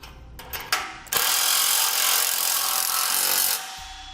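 A power tool whirs as lock nuts are tightened onto a Malone 2 Tier LowBed MicroSport trailer, preceded by a few sharp clicks, then a loud steady buzz for about two and a half seconds before stopping.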